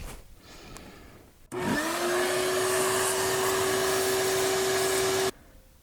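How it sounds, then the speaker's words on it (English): A vacuum cleaner, used to clear debris from a Mazda Miata's blower motor area, switches on with a loud, steady whining drone that holds for several seconds, then cuts off abruptly. "I'm going to vacuum out as much as I can in here to get any kind of debris out of there"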